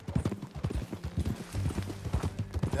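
Horse hooves clip-clop at a steady walking rhythm in the Red Dead Redemption 2 video game, close and clear, with a faint bit of game ambience underneath.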